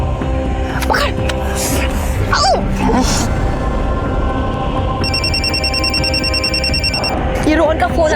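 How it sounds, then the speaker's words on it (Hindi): A phone rings with a repeating electronic tone partway through, loud and close, while a few faint voices murmur in the background. "ये रोहन का फोन आ रहा है"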